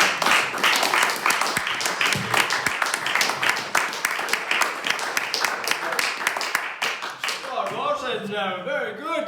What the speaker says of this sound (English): Keep that applause rolling